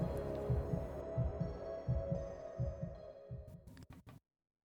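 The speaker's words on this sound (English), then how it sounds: "the way the credits came in with the heartbeat was awesome" A heartbeat sound effect from a song: steady, deep double thumps pulse over a low droning hum, then the sound cuts out abruptly near the end.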